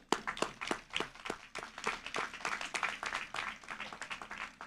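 A commencement audience claps steadily in a large hall, a dense, continuous wash of many hands, fairly distant and even in level throughout.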